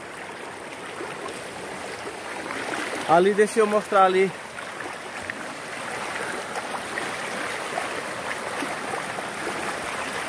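Water of the Riacho Grande stream rushes steadily and fairly loudly throughout, a constant broadband flow, with someone briefly speaking over it in the middle.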